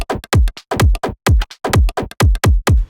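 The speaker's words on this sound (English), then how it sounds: "The original perc loop sounds like this." An original percussion loop from an electronic dance music remix plays alone, with sharp, punchy hits falling in a repeating, swung rhythm, close and loud.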